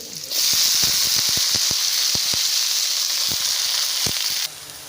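Taro leaves hit hot oil in a pan and set off a loud, bright, continuous sizzle right up close, with scattered crackles and pops throughout. It drops away abruptly near the end, and nobody speaks.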